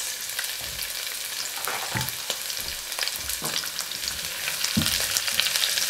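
Onion and celery fry in a pan with a constant close sizzle, broken by several soft scraping stirs from a utensil, and no voices.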